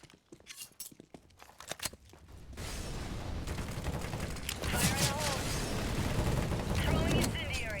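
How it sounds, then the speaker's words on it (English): A grenade is thrown in CS:GO: a few sharp clicks and handling noises come first, then a loud, sustained burst of explosive noise and gunfire-like crackle that fills the rest of the clip. "Grenade out."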